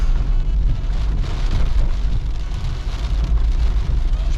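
Heavy rain pours steadily on a stormy night in Lille, a dense continuous hiss with a low rumble underneath, loud and close, with no voices.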